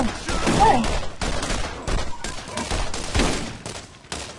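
Rapid bursts of gunfire from a gun in Borderlands, loud and close, with repeated shots crackling across the whole span and brief dips between volleys.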